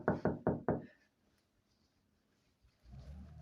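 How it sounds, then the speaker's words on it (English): Four sharp knocks at a door in a quick, even series, fairly close and loud, then quiet, followed by low room noise toward the end. "I'm getting a knock at the door."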